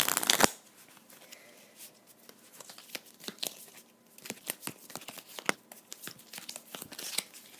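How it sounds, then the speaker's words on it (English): A deck of cards for the Onirim card game being shuffled by hand nearby, a quiet, steady run of riffling and snapping that goes on for several seconds with no voices. "So then I'm going to have to shuffle this deck again."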